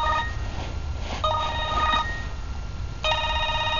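A mobile phone rings during an outdoor-emergency-care splinting lesson, its electronic tone sounding in three bursts with short gaps, loud and clear over a low room hum.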